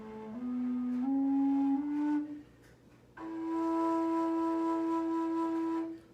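A fujara, a long Slovak overtone flute, plays sustained tones stepping upward through its overtones, with a brief pause in the middle before a long, steady higher note. The tones are clear and breathy, with no talking.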